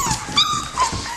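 A Shepadoodle puppy, the litter's runt, gives a few thin, high-pitched whimpers in quick succession, close and fairly clear, each cry brief and wavering.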